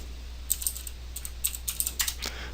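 Quick, irregular keystrokes tapped on a computer keyboard while working in rigging software, light clicks coming in small bursts, close and alone with no talk.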